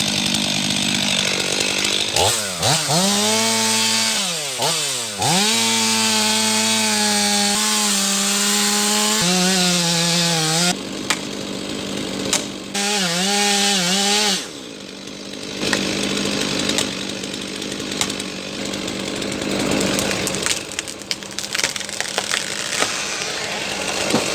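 A big chainsaw cuts through a tree, its engine rising and falling in pitch through repeated revving bursts, then giving way to rougher cutting and machinery noise over steady loud background rumble.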